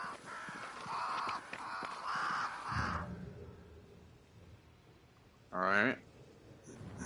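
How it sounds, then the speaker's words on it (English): Crows in the game Banishers: Ghosts of New Eden caw near a great tree. A burst of harsh calls comes first, then a single loud caw after a quieter stretch, with a voice talking over the start. "Crows. They flock to that great tree up there."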